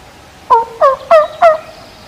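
A hunter works a turkey call, imitating a hen with a crisp run of yelps. Four sharp, evenly spaced notes sound loud and close against a quiet background.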